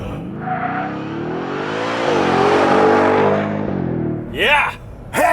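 A 2024 Ford F-150 Raptor R pickup with a supercharged 5.2-liter V8 accelerates hard from a standstill without launch control, its loud rising engine roar sweeping up through the gears, followed by excited shouts.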